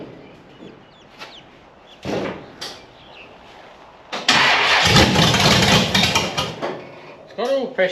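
FB Holden ute engine started with the key, with intermittent clunks and noises before a sharp crank catches and the old engine settles into a loud, rough idle, with faint voices in the background.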